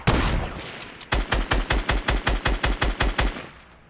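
A shooter video game fires a fast, evenly spaced burst of about a dozen loud gunshots, preceded by a single sharper shot, with no talking over it.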